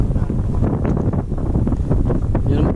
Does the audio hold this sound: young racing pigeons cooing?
no